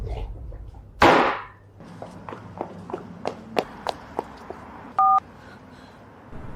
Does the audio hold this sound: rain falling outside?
no